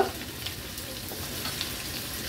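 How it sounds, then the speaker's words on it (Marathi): Mustard seeds, crushed ginger-garlic and a pinch of hing, along with cumin, sizzle in hot tempering oil: a soft, steady frying hiss, close but fairly quiet, with a brief louder burst at the start. "अर्धा चमचा राई, एक चमचा आलं लसूण क्रश घालूया फोडणीला, थोडंसं हिंग"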